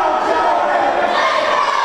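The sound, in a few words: wrestling crowd chanting and cheering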